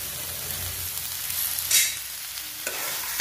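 Finely chopped tomatoes fry in a pan for egg chilli curry, giving a continuous close sizzle with a scraping stir and a brief clatter midway, no voices.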